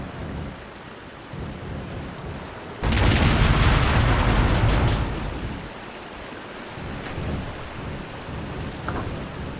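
Dynamite blows up an already destroyed bridge in the Hidden & Dangerous Deluxe game with the Ultimate Overhaul mod: a sudden loud, deep blast that rumbles for about two seconds, then fades into a steady background wash.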